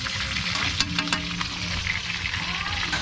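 Bagongon shellfish frying in a pan in Matina Aplaya, Davao City, giving a steady close sizzle with scattered crackles and pops throughout.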